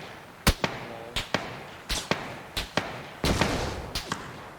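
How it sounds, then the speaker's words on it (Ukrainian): Sharp gunshot cracks from PUBG go off irregularly, single and paired, with a short burst near the end, over a steady background rumble. "Як він через дим стріляє, так?"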